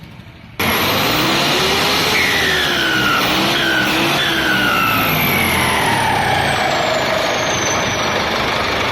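A heavy Kartar 5911 tractor engine fitted with a new turbocharger roars loudly, revving up and down with a rising turbo whine, steady and close throughout after a short quieter opening.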